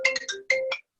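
A phone ringtone plays a short melodic pattern of bright electronic tones, close and clear, a quick run of notes, a brief gap, then two more notes before it stops.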